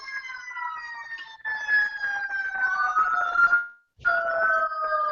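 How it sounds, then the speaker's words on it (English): Several sirens wail together in the distance, rising and falling in long sweeping tones that cut out briefly and then resume, with no talking. "so many sirens"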